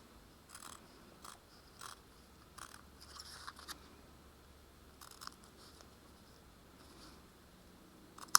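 Small scissors trim the edges of a bead embroidery piece, giving a string of light, close snips in an uneven rhythm, with a sharper click at the very end.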